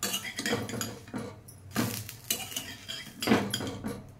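Plates, pots and cutlery clink in several distinct bursts as freshly cooked uttapam is lifted from the pan onto a plate in a home kitchen, close and fairly loud with no talking.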